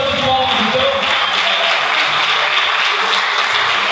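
A church congregation claps together in a continuous, loud wash of applause that holds steady throughout, with a few faint voices mixed in underneath.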